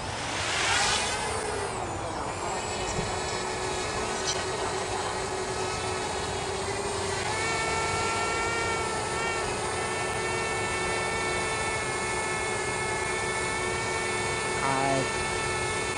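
A DJI Mavic Mini drone lifts off and flies at Fort Edmonton Park, its steady high-pitched rotor whine holding near and continuous after a brief rising spin-up at the start.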